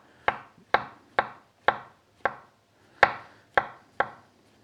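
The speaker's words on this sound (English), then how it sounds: "So just slice up all your mushrooms" A knife cuts through mushrooms on a board in eight sharp, evenly spaced taps, close and clear with no talking.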